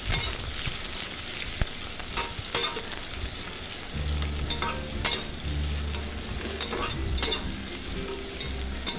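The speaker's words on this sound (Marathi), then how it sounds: "मी तो कांदा टाकला आहे कांदा थोडाफार असा आपल्याला फ्राय होऊन द्यायचा थोडासा लालसर होईपर्यंत" Chopped onion sizzles steadily in oil in a home kitchen pan while being fried for masale bhat, with repeated scraping stir strokes and a low rumbling layer joining partway through; no talking.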